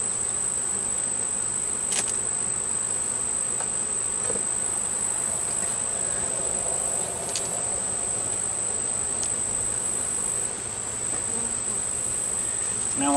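Honeybees buzz steadily around an open hive during an inspection, a dense continuous hum with a high insect whine and a few faint clicks.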